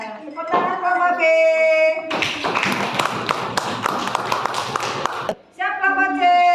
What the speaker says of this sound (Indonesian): Ya, tepuk tangan kelompok B.